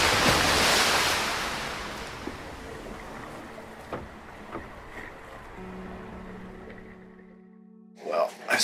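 Strong wind of around 35 knots sustained at sea near a remote Australian reef, roaring broadband over a moving boat with water wash, easing after a loud burst, then fading to a low hum before brief knocks.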